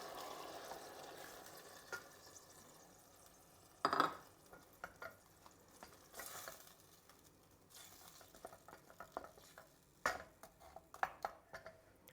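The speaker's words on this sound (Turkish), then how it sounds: "Şimdi güzelce domatesimiz birazcık kaynasın." Homemade tomatoes cook in a pot with a quiet low bubbling hiss, broken by occasional spoon stirs and clinks against the pot's side, several sharper knocks standing out near the middle and end.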